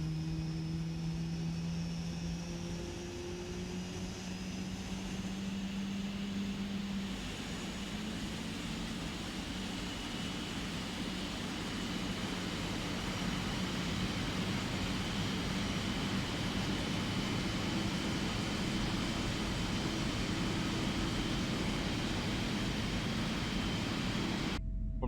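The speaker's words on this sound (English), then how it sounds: "We're going to start the engines." Boeing 777-300ER jet engines in Microsoft Flight Simulator spool up with a steady rising whine and broad roar that grows fuller and louder over time, with no talking.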